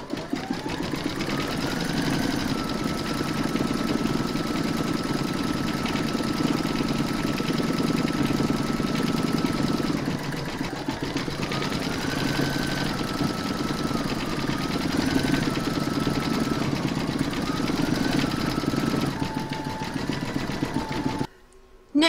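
An embroidery machine stitches the white of the eyes on a large in-the-hoop pig applique, a steady rapid mechanical whir with a rising and falling motor pitch, running continuously before stopping abruptly at the end.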